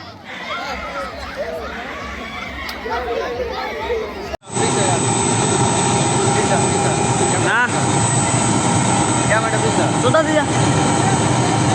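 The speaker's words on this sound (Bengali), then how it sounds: "এই সর্বপ্রথম হেলিকপ্টার নামলো" A helicopter lands in a field beside a rice paddy: crowd chatter first, then a sudden loud, close, steady roar of rotor and engine fills the rest, with voices faintly beneath.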